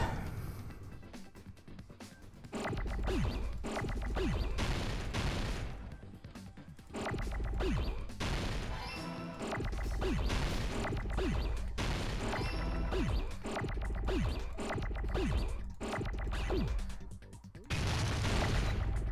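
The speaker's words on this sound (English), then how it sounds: "Fire grenade." Fire grenade going off in the video game Danganronpa 2, a run of loud booming crashes and bursts repeating over a dense continuous game soundtrack, with hits spaced every second or two.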